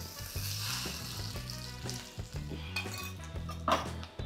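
Spice tempering sizzles hard in a pan for tandoori palak paneer, a loud, continuous frying hiss broken by repeated metallic stirring clinks, close up over a steady low kitchen hum, with no voices.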